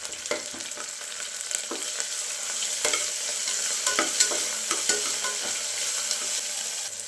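Ginger-garlic paste frying in a pan for jeera rice gives a bright, steady sizzle close by, punctuated by scattered scrapes and taps of a stirring utensil, with no one speaking.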